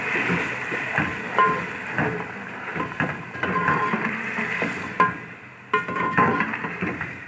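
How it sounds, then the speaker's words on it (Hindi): A spoon clinks and scrapes against a cooking pot as yogurt goes into chicken stew, with irregular metallic taps and knocks spread over several seconds. "बस अब हम इसमें दही को डाल दें।"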